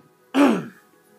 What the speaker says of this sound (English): I know I shouldn't be coughing on camera